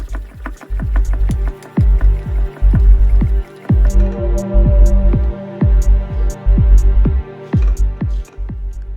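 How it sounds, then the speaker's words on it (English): Floor pump inflating a bicycle tyre toward 50 psi, giving a steady run of rhythmic pump strokes, each a short hiss-and-squeak of air, close and fairly loud with brief pauses between them. "So now with the floor pump attached, I'm aiming to pump the tyre up to 50 psi"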